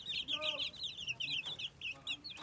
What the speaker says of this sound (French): là on a des poules qui se gavent